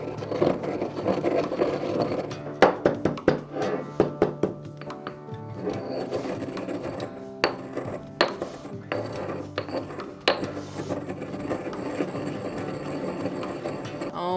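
Natural pigment is ground by hand into a fine powder for oil paint, heard as close, continuous gritty rubbing and scraping with irregular taps and clicks over several seconds, with no voices.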